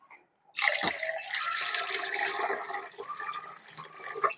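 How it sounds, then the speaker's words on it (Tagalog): Rice is washed in water by hand, a sudden splash followed by continuous sloshing and trickling close by, fading slightly and then swelling again at the end. "Ganun ako maghugas ng bigas."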